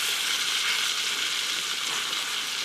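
Ribeye steak sizzling in a hot pan gives a loud, steady, dense hiss that fills the whole moment without a break, with no voices over it.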